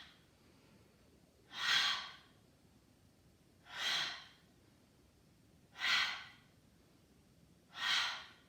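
Yoga breath-of-fire breathing exercise: four strong, airy breaths come at an even pace about two seconds apart, close and clear over a quiet room, with no talk.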